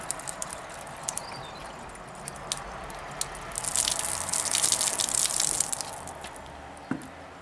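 Water trickles and splashes into the side tanks of a model 14xx steam locomotive, a steady wet gurgle that swells into a brighter gush midway before easing off, close and alone with no talk.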